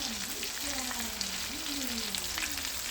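Chicken frying in hot oil, a steady soft sizzle and crackle close by, with a faint voice briefly heard under it.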